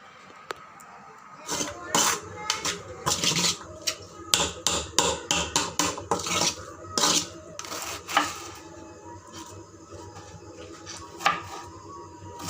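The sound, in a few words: stirring samosa vegetable filling with garam masala in a pan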